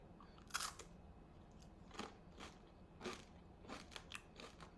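Crunchy bites and chewing of food topped with tomato, pizza-style hummus, close and fairly quiet, several crisp crunches spaced a second or so apart with no talking.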